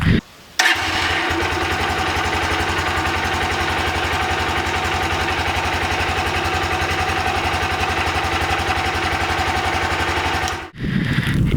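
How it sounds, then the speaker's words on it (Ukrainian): A Lifan LF150-2e motorcycle with its old stock factory muffler fires up and idles with a steady, throaty rumble close by, running evenly for about ten seconds before cutting off. "всі ми пам'ятаємо, як звучав старий глушитель заводський"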